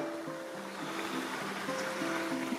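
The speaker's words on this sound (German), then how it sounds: "Und da kommt der Bach von oben reingeflossen." A stream flows down into a reservoir behind a dam, heard as a steady rushing wash of water with a faint low tonal hum underneath and no voices.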